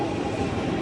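A train pulls into a station in Japan, heard as a close, steady rumbling roar of wheels and motor with no voices.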